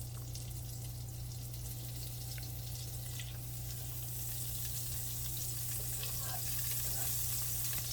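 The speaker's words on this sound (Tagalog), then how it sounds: "In a pan, maglagay lang po tayo ng butter." Butter melting and sizzling in a pan before garlic is added, a steady close frying hiss with faint crackles and a low hum underneath, no talking.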